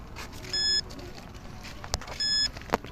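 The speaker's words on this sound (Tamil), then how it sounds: "பீப் சவுண்ட் இன்க்ரீஸ் ஆகுது." A handheld ghost tracker detector gives two short bursts of steady electronic beeping, each lasting a fraction of a second, over faint background noise with brief clicks.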